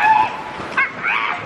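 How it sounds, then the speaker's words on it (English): A female dog lets out high, thin whimpers and short yips close by in a quiet room, a few rising whines broken by brief pauses. "Listen to her make noise. This dog rarely makes noise."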